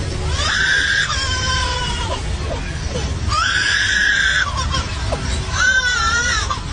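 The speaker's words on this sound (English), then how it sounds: "Lyrebird." A lyrebird gives loud, shrill, scream-like cries, three drawn-out wailing calls with sweeping pitch, close and alone.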